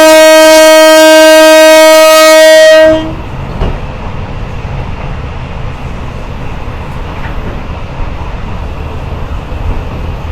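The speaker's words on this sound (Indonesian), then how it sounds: "lokomotif CC201 itu suara 935-nya kenceng banget masuk ke dalam rangkaian kereta api Bukit Serelo" A CC201 locomotive horn sounds as one loud, sustained blast for about three seconds, heard from inside the Bukit Serelo passenger train, then gives way to a steady rolling rumble of the carriages.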